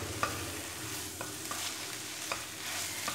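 Chicken samosa filling being stirred and mixed in a pan, with a steady low sizzle and a few scattered spoon scrapes and taps against the pan, close by and with no talking.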